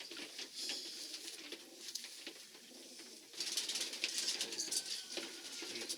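Soft pigeon cooing and fluttering amid a busy loft, with scattered scratches and taps; the activity grows noticeably louder halfway through.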